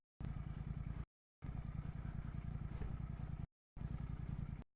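A Royal Enfield GT650 motorcycle rides over a bad, rough road with a steady, loud engine drone and rattling clatter. The sound is cut into three segments by brief silent gaps.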